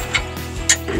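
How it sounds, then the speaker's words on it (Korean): A ratchet clicks in short bursts while a bolt is tightened during assembly of an ATOMM320HA unit, close and distinct, with no talk over it. "볼트 하나 이렇게 이제 체결해 주시고요"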